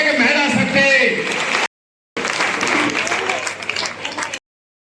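An audience at a political event applauds in loud bursts of clapping mixed with crowd noise and a speaking voice, cut by two abrupt silent gaps.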